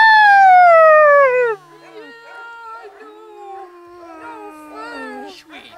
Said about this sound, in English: the reason he's howling is because his dad's out walking other dogs.